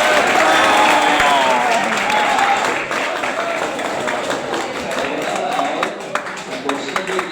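Audience clapping fills the room, loud and continuous at first and then easing into scattered claps, with voices talking over it toward the end.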